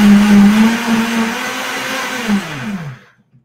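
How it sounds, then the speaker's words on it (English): A kitchen blender whirring through coconut cream, a loud close motor whine that holds steady, sags slightly in pitch, then spins down and stops near the end. "You're going to hear my blender go off"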